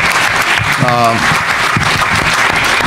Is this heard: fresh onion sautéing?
no